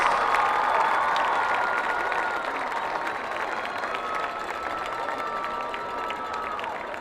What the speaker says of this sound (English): a round of applause for your life skills royalty